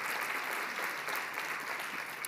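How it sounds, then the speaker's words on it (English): An audience claps steadily after a hospital recovery room nurse is introduced, a dense even patter of many hands held at a constant level from start to finish with no voices over it. "give you a big round of applause"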